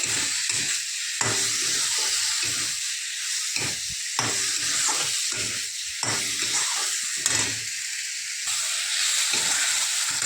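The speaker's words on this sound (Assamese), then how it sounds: "এতিয়া মাংসখিনি ভালদৰে ভাজি লওঁ।" Chicken pieces frying in a pan for Assamese-style chicken ghugni give a loud, steady sizzle and hiss with steam, plus intermittent stirring scrapes throughout.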